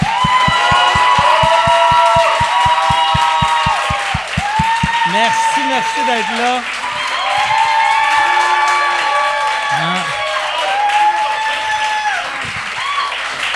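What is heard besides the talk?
audience applause and cheering for comedians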